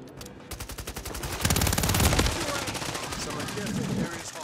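Loud, rapid bursts of automatic gunfire crackle in a Warzone 3 firefight, with a heavier cluster of shots at the midpoint and continuing volleys throughout.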